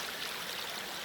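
Water flows steadily through a solid spring box, a continuous broadband rushing and trickling close by with no talk over it.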